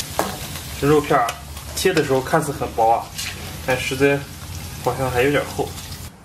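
Sliced pork stirred apart in a hot wok, a continuous sizzle and scraping underneath someone talking throughout.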